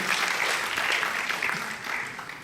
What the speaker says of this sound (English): So another round of applause for the concept and the execution.